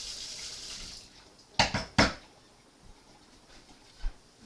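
A wooden spatula rinsed under a running kitchen tap, a soft hiss of water with a few sharp clacks of wood against the sink, close and quiet.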